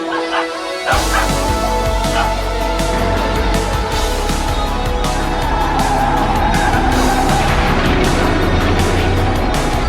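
A loyal dog stands guard near a house, its barks and yips loud and close amid a busy, dense mix of other noise, with no talk.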